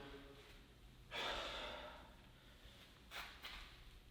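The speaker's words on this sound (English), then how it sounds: "while I'm talking, I'm getting out of breath" Heavy, out-of-breath breathing during a leg-day workout, with a loud gasping exhale around the one-second mark and a second, shorter burst of breath near the end, close to the mic and with no speech.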